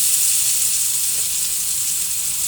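Garlic and onion frying in a hot pan give a steady, bright sizzling hiss, close and loud, continuous with no talk over it.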